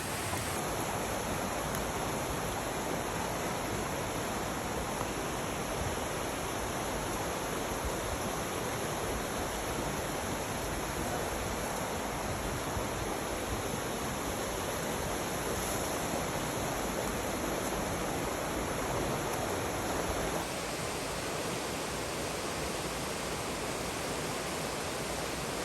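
Deep Creek rushes over rocks in a continuous, even wash of flowing water that holds steady from start to finish, with no voices over it.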